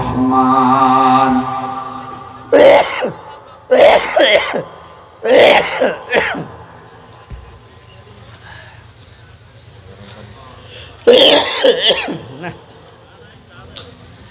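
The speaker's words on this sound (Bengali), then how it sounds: "কাশিটা তো বন্ধই হচ্ছে না" An ailing preacher at a large religious gathering coughs and clears his throat in several separate bursts, loud and close to the microphone, spaced a second or two apart, with quieter stretches between.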